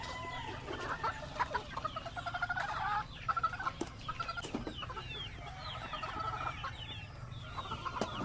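Chickens and chicks on a breeding farm fill the scene with clucking, soft calls and high chirps, overlapping in a busy, continuous chorus at moderate distance with no talking.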